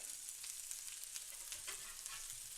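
Burgers fry in a pan with a quiet, steady sizzle and crackling pops scattered throughout, soft and close with no voices.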